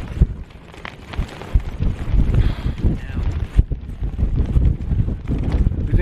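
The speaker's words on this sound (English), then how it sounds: "And as you can hear, it's still windy." Strong wind buffets the microphone in heavy gusts outside a Tarptent Scarp 1 tent on a wild camp in the Carneddau, Snowdonia, with flapping and rustling like fabric whipping, steady roaring throughout.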